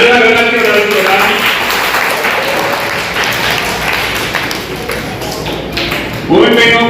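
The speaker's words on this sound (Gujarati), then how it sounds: "તાળીના ગળાથી વધાવો." A crowd claps through most of the stretch at a Grade 8 farewell ceremony at a school, a loud, close, continuous patter, with speech before and after it.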